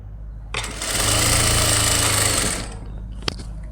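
A sewing machine stitches piping onto a lined blouse, a close, loud continuous motor whir lasting about two seconds before slowing to a stop, followed by a sharp click.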